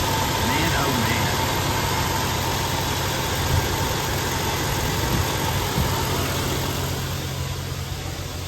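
A car engine idles steadily after starting, a close, continuous rumble with a faint mechanical buzz, while coolant blows off from under the hood.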